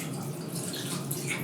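Water running steadily from a tap while hands are wetted at a sink, a soft continuous hiss of flow.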